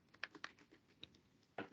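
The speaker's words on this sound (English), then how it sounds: "just click enter on my keyboard" Scattered clicks of a computer keyboard being typed on, irregular and fairly soft, with a quick pair of louder keystrokes near the end.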